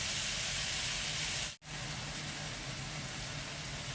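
Tomatoes sauté in a pan for a garlic and curry leaf vatha kuzhambu, making a steady, dense hiss that breaks off for a brief instant midway and then resumes at the same level.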